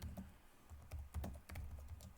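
Quick typing on a computer keyboard while entering text in Microsoft Word 2013, a rapid, uneven run of soft key clicks, quiet and close with no talking.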